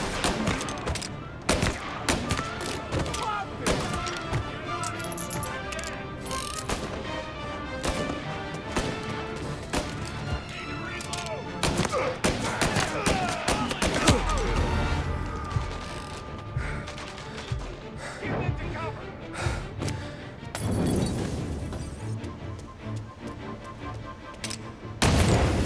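Dense gunfire from Mafia: Definitive Edition, rapid shots and bursts packed over a continuous bed of game music and effects, loud and sustained throughout with a few sharper blasts.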